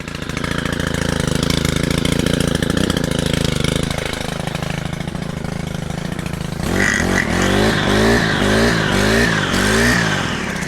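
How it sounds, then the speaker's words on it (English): An old Stihl chop saw runs loud and steady at close range, its engine droning evenly before shifting into a rougher, pulsing rhythm of repeated revs in the later part. "The old Stihl chop saw. Let me tell you though, this thing fucking works."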